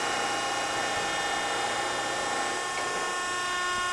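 A programmable back gauge on a used 1/4-inch by 12-foot standard hydraulic power shear travels to a new position with a steady mechanical whir and faint ratcheting, a constant hum running throughout without pause.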